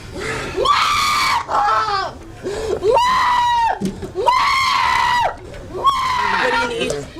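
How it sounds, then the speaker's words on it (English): A woman yells and screams loudly and close by in repeated strained bursts with short gaps between them, during a tense encounter with police. "There, she's just yelling."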